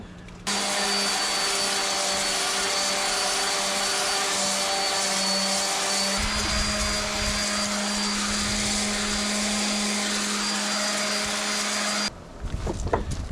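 A handheld power sander runs steadily on a surface, a loud continuous motor whine with a sanding hiss that shifts pitch about halfway through, then cuts off near the end.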